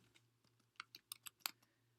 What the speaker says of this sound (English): I'm typing too fast, clearly.